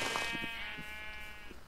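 A sheep in the video game Minecraft gives one drawn-out wavering bleat, close and clear. It rings for over a second and then fades, with a few soft thuds underneath.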